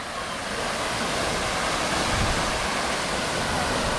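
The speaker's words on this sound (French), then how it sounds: "Là il y a un bon gros geyser." Rushing, splashing water from a large geyser feature at Vulcania volcano park, a steady broad roar that holds loud and unbroken throughout with no pauses.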